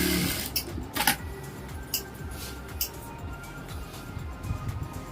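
A sewing machine runs steady seams along a Patiala salwar, its low rapid mechanical stitching chatter continuous through the clip with a few brief higher clicks and no talk.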